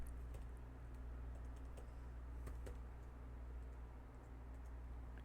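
Steady, quick keystrokes on a computer keyboard while entering a username and password during a Debian Testing LXDE setup, clicking continuously over a low background hum with no talking.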